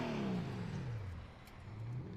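A drift car engine at a British Drift Championship round at Teesside revving and sweeping down in pitch, then climbing again, loud and fairly close, with no talking.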